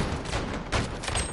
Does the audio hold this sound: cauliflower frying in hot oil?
no